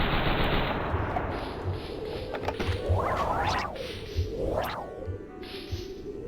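Video game gunfire slowed into bullet time: warped, distorted shots with long sweeping pitch bends that rise and fall, over a low rumbling bed with sharp impacts scattered throughout.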